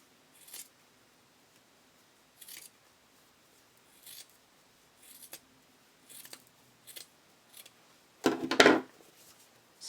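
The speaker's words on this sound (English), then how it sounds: "we're just stitching through the seam, or cutting through the seam allowance only" Scissors snip through the fabric seam allowance beside zigzag stitching on a padded bra lining: about eight crisp, separate cuts spaced a second or so apart, with one louder, heavier snip near the end.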